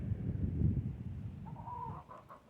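Chicken clucking outdoors on a winter farm, a few short faint clucks near the end over low rumbling background noise.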